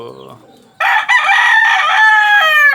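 A Golden Boy Sweater gamefowl rooster crows loudly and close by, one long sustained crow that follows a brief soft bit at the start.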